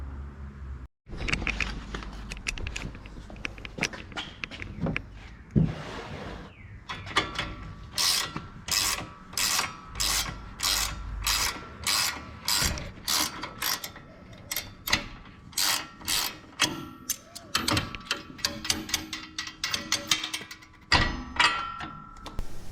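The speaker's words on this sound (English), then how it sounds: "Eric got that nut off and got this all free" A wrench ratchets a nut off a Ford Bronco control arm during a Rock Krawler control arm install, giving a long run of close, loud, evenly spaced clicking bursts after some earlier scraping and metallic clatter, with no talk.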